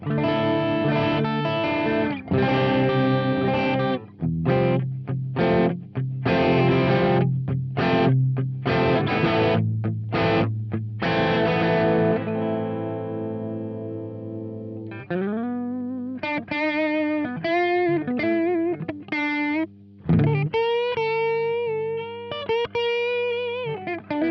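Overdriven electric guitar through a boost pedal on a small pedalboard, playing chords and riffs with a boosted, crunchy plexi-style tone, starting with choppy rhythmic strums, then sustained bends and melodic lines.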